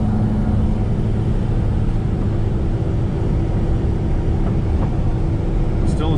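A Duramax truck on 38-inch Toyo M/T tires cruises in fifth gear with the torque converter locked, giving a steady, even drone of engine and road noise that holds for the whole stretch.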